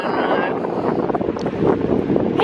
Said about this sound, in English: I mean, it's still pretty windy, isn't it?